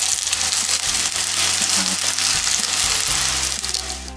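Cutlets fry in a pan with a loud, continuous sizzle and crackle, heard up close with no voices.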